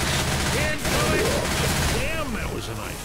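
Gunfire in the zombie shooter Left 4 Dead 2 sounds as a steady stream of game weapon shots and impacts under a continuous busy mix of voices and in-game noise, with no break across the short stretch.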